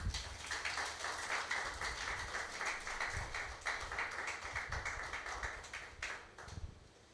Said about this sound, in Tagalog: Baka may gustong pumalakpak sa Panginoon.